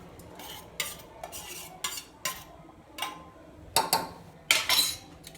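Chicken and pounded masala are stirred into a pressure cooker on the stove with a spoon, producing a series of sharp metallic scrapes and clinks in irregular bursts over faint sizzling.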